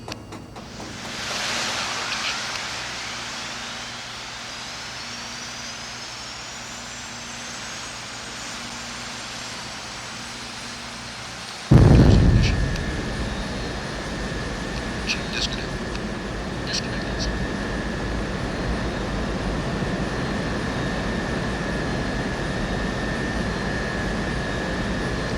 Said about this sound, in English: Start right engine.